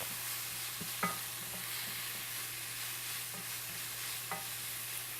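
Garlic fries gently on a stovetop over turned-down heat, giving a soft, steady sizzle with a low hum and a few faint clicks of stirring, and no talking.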